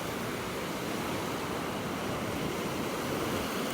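Ocean surf on a beach in North Naples, Florida, rushing as a steady, loud wash of broadband noise with wind over the microphone, with no talk throughout.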